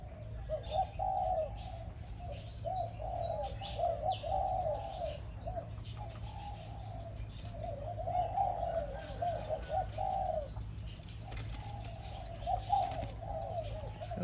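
A decoy bird calls out to draw in wild birds, repeating short cooing phrases in a steady rhythm with brief pauses between them, fairly close and clear over a low background hum.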